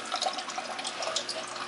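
Water from a secondary pump in a reef aquarium setup runs through a black hose into a tank, a steady splashing, trickling flow heard close and alone with no talk.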